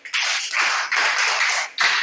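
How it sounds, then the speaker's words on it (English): Pupils in a classroom clap together for a team in a literacy game, three steady bursts of close, busy applause with short gaps between them. "Okay, let's clap for them."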